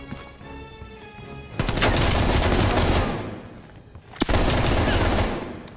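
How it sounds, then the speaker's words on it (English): Gunfire in Call of Duty: Black Ops Cold War: two loud, dense bursts of rapid automatic fire with sharp cracks and booms, each lasting over a second, separated by a brief lull with faint background battle noise. "Still under heavy fire."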